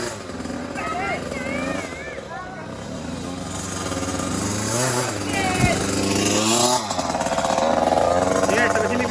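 Motocross motorcycle engine at a dirt track, running with a steady droning rumble and shifting revs throughout, with people talking over it.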